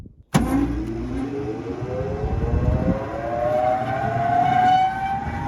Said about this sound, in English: So we will start the blower.